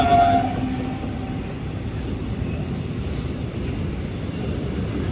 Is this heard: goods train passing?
yes